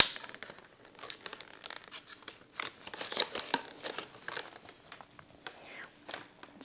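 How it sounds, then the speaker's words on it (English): Plastic tabs on a SimplKomb honeycomb cup are folded by hand, giving close crinkling and crackling with small snaps and scratches in irregular bursts. The sound is fairly quiet. "Fold the tabs closest to the hinge down and away from the cup."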